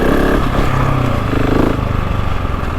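GasGas dirt bike engine working up steep hills, a loud, gritty, continuous drone with throttle pulses and rough mechanical rattle, close and alone with no talk.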